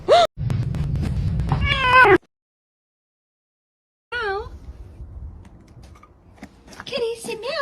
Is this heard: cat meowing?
yes